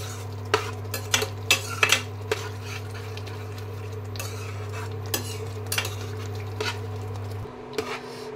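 A spoon scrapes and taps against a pan while paneer bhurji is stirred, irregular strokes over a steady low hum from the stove that cuts off near the end.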